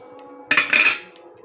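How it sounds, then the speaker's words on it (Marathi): Green chilies roasting in a pan for a quick tomato thecha: a sudden clattering scrape of metal utensil against the pan, close and loud, followed by a softer fading sizzle and clink. "मिरच्या आपण थोड्या भुजून घेऊया।"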